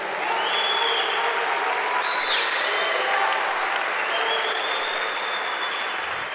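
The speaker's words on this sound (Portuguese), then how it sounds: "Dá um aplauso a Jesus." Steady, dense congregation applause at a Sunday church service, loud and sustained throughout with whistles and cheers rising above the clapping.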